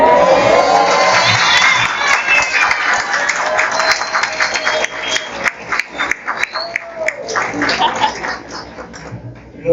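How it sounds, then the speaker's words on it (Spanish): A large crowd at a church anniversary gathering in Zulia, Venezuela, shouts and cheers loudly, with whistles, children's cries and scattered clapping, the roar gradually fading into choppier bursts of voices. "Los gritos están muy bien, los aplausos mejor."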